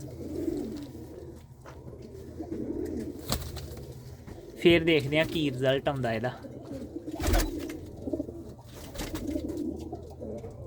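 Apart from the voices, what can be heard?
pigeons cooing in a loft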